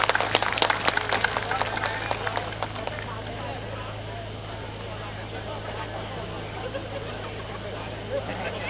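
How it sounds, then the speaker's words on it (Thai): A crowd at a rural Thai village gathering in Rai Makham subdistrict claps to welcome a new village headman; dense, sharp clapping fills the first few seconds, then thins away under a steady electrical hum and faint background voices. "ขอเสียงปรบมือต้อนรับผู้ใหญ่ก้องอุเทนแย้มศรีครับ"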